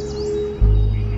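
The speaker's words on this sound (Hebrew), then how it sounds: "הרעש של הציפורים הזה, נגיד, למשל, לא מציק לי" Birds chirp outside a window, thin high calls fairly faint in the background, joined halfway through by a steady low rumble.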